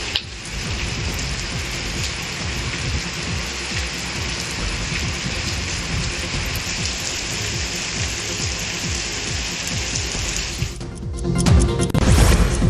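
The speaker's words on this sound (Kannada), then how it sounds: "ಚಿಂತಾಮಣಿ ಸೇರಿದಂತೆ ಹಲವೆಡೆ ಭಾರಿ ಮಳೆಯಾಗಿದೆ." Heavy rain falls in a dense, continuous downpour, loud and close, with drops drumming on surfaces. Near the end it breaks into a few heavier splashes and knocks.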